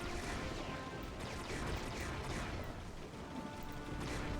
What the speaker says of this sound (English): Is my gun firing faster when I'm looking up?